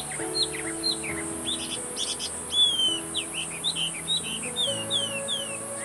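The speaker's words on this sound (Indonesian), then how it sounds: "Kalian bisa mendengar kicauan burung-burung" Several birds chirp and whistle in short, scattered calls over a steady high insect-like hum and faint low drone.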